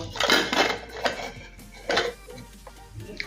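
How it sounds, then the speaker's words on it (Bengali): Lid of a cooled pressure cooker used for Kolkata-style mutton biryani being opened, a few close metallic clanks and scrapes of metal on metal, short and separate, with quieter rattling between them. "এখন ঢাকাটা খুলে নেব।"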